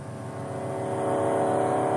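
A race car engine on a driving-experience track holds a steady rising rev toward 4,200 RPM, a dense continuous engine tone growing slightly louder, close and alone.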